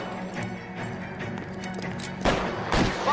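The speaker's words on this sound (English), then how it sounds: "Whoa, whoa, machine gun" Gunfire in the L.A. Noire video game, an LAPD shootout during an armed robbery chase, with a steady bed of game music and noise broken by two loud bursts of shots near the end, each followed by a short rattle.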